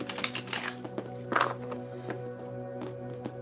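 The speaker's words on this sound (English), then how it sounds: "Hopefully these cards are a little bit quieter as I shuffle" Tarot cards being shuffled by hand, a run of soft papery riffles and taps with one louder flurry in the middle, close by over a steady low hum.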